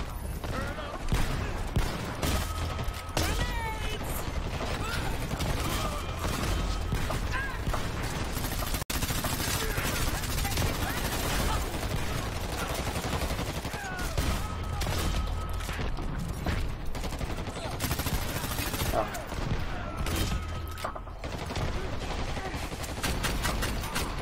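Video game combat with rapid bursts of gunfire, repeated shots and a thrown landmine set off by shooting, continuous and fairly loud, with voices talking over the action.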